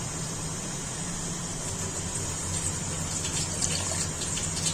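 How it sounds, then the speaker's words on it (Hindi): Water pours steadily into moong dal cooking in a pot, a continuous gushing splash with a faint background hum, close and even throughout. "अब मैं इसमें थोड़ा सा और पानी डालूँगी, तकरीबन आधा कप डालूँगी"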